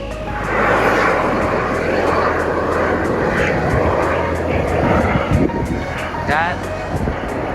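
Roaring steam vent at a Yellowstone hot spring, a steady loud jet-like rush that holds throughout, with people talking nearby over the hiss.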